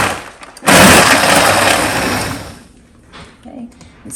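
Blender on an ice-crush setting grinding ice with milk for a homemade Orange Julius, a loud burst of whirring and crunching that starts abruptly and fades over a couple of seconds, followed by quieter handling sounds.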